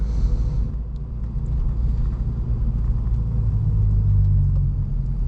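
Manual car cruising in second gear with the clutch out, giving a steady low engine and road rumble heard from inside the cabin, no talking.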